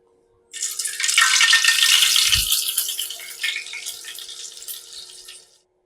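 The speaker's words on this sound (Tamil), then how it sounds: "எண்ணெய் சூடாகட்டும். பட்டர் சேர்த்துக்கிறோம்." Butter dropped into hot oil in a pan while making paneer butter masala, a bright crackling sizzle that swells quickly and holds steady before fading out, with no talk.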